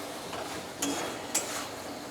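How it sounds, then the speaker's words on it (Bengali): Fried potato and pumpkin being sautéed with spices in a pan, a low steady sizzle broken by two sharp clinks of the spatula against the metal. "আলু কুমড়োটাকে একটু মশলা দিয়ে ভালো করে কষিয়ে নেব"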